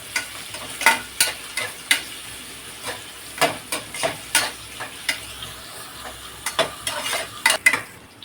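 Cashews fry in oil in a pan for coconut milk pulao, a soft sizzle beneath a string of sharp, close scrapes and clicks from a spoon stirring at an uneven rhythm; no voices.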